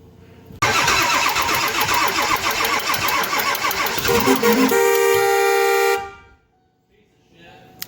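A truck engine with a fuel leak cranks and turns over loudly for several seconds as fuel pressure builds, catches briefly with a rising tone, then cuts off into near silence.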